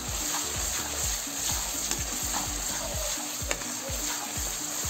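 A spice paste with chilli powder fries in a pan for a vegetarian yam kofta curry, with a steady sizzle and a quick, regular rhythm of stirring strokes scraping the pan, and no talk.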